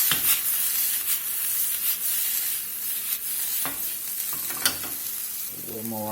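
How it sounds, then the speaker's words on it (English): Vegetables sauté in a hot pan with olive oil: a steady, close sizzle with occasional stirring scrapes, and a few brief clatters near the end. "We're just going to let these saute here a few minutes till they soften up a little bit."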